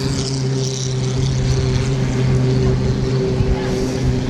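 1.5 litre racing boats starting a heat, their engines making a loud, steady, roaring drone with a constant buzzing tone, heard from nearby without talk.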